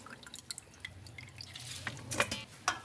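Boiled bamboo shoots (labong) are wrung out by hand to draw off their bitterness, giving irregular trickles and splashes of water that drip close by, alone and fairly quiet.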